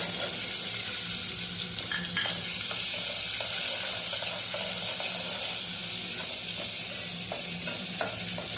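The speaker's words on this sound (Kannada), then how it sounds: "ಈರುಳ್ಳಿ ಹಾಕೋಣ." Onions frying in hot oil in a pan, with cumin and curry leaves in the tempering, give a steady loud sizzle with crackles and light stirring clicks throughout, no voices.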